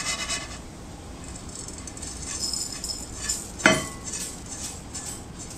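Roasted poha gets scraped from a pan into a bowl, a sound of continuous metallic rattling and scraping with one sharp clink partway through, close and moderately loud, with no talking.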